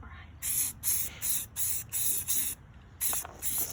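An aerosol spray paint can hisses in short, evenly spaced bursts, about eight in a row with brief gaps, close by, as parts of a 1971 Cub Cadet are painted during a restoration.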